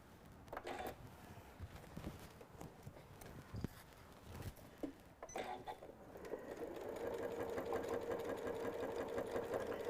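A sewing machine stitches through the inside foam of a handmade stuffed nativity figure: scattered faint taps and clicks at first, then a steady, quiet mechanical whirring buzz over the last few seconds.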